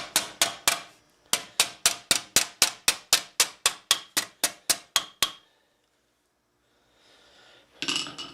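Steel is hammered into Milanese mitten gauntlets, the c. 1450 style, in about nineteen sharp ringing metallic strikes at an even rhythm, close and loud, followed by silence and then a brief scraping noise.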